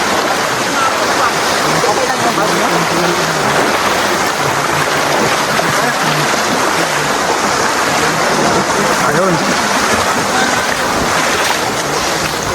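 River water rushes loudly and continuously during a crossing on a mountain trek, a steady roaring flow with people talking faintly underneath.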